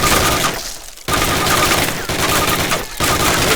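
Sustained automatic weapon fire from a Call of Duty training session, loud and nearly continuous with brief gaps between bursts.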